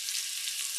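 Asian mixed greens and baby bok choy sizzling in a hot stir-fry pan, a steady bright hiss of frying that continues without a break.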